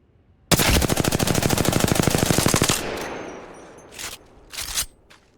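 An automatic weapon in a video game fires a rapid, continuous burst of about twenty evenly spaced shots for two seconds, then a couple of fainter mechanical clicks and thuds follow.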